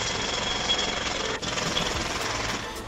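A loud jackhammer in a GTA roleplay game hammers continuously and close up, a dense unbroken rattle with one brief dip before carrying on.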